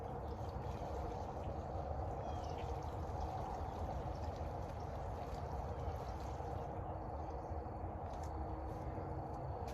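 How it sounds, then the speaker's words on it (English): Boiling water pouring in a steady, continuous stream onto a car diesel particulate filter, a soft splashing hiss that stays even from start to finish, fairly quiet. "As I'm pouring the boiling water on"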